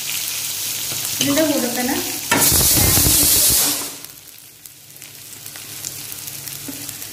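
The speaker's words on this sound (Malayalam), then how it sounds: "ഇത് 4 വറ്റൽമുളക് ഇട്ട് കൊടുക്കാം." Four dried red chillies hit a hot pan while a beef curry lunch is being cooked. A loud burst of sizzling and spitting follows, then it eases to a softer, steady fry. A voice speaks briefly just before.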